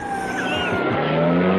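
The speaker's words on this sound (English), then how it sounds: "He's pulling away with the car." A car pulls away in a radio-drama sound effect, with a steady engine roar and a long, high tire squeal that slides in pitch, loud and close throughout.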